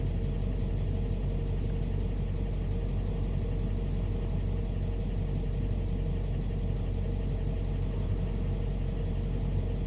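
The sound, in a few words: 2008 Chevy Express ambulance engine idling, foot off gas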